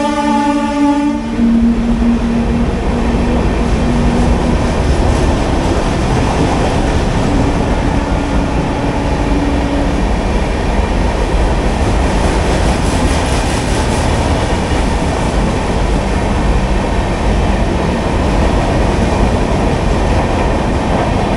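Puri Shalimar Superfast Express (12888) pulling out of Andul station, a horn blast at the start giving way to loud, continuous rumbling and rattling of the carriages, heard close from on board.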